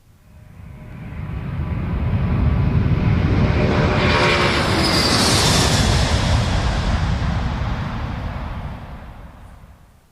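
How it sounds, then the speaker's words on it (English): A fixed-wing airplane passes at an airport, its engine roar rising steadily, peaking loud and close in the middle, then fading away over about ten seconds, alone with no voices. "It's an airport."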